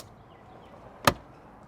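A single sharp click-thump as the fuel door of a 1989 Chevrolet Corvette snaps shut, close by, against quiet background noise.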